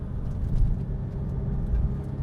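Porsche 996 Turbo 911 engine drone while driving, a steady low rumble with road noise from inside the cabin, continuous and moderately loud with no talk.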